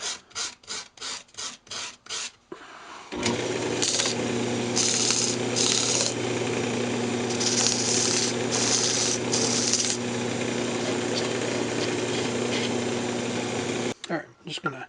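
Sandpaper rasps against a spinning purpleheart wood pendant on a lathe, a steady loud hiss and rub over the motor's hum, preceded by several short scraping strokes and ending in brief handling noises.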